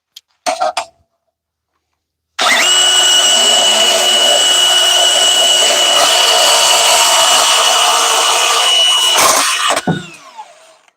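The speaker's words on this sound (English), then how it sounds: "Now watch how quick I can make these cuts with the bandsaw." A bandsaw makes quick cuts: a short burst of motor noise, a pause, then a loud, steady whining cut lasting about seven seconds that stops abruptly and winds down.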